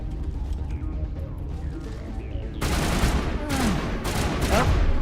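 Gunfire in the Mass Effect video game, set on Noveria, with quieter game ambience giving way to a loud burst of shots and repeated firing sounds that continue through the rest of the moment, with no talk.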